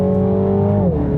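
Mini John Cooper Works GP hot hatch engine on a racetrack, a close, loud, steady engine drone holding a constant pitch before easing off slightly near the end.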